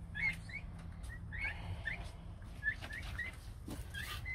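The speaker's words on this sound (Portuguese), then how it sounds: "Galinha tá colocando o ovo já." A hen clucks repeatedly while laying an egg, short chirpy calls at a steady pace over a low rumbling farmyard background, fairly faint and close.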